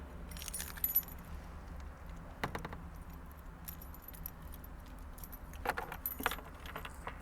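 Car keys jangling inside a 1971 Datsun 510 as they are picked up and readied for the ignition. The bright metallic clinks come in short bursts near the start, middle and end over a quiet cabin background.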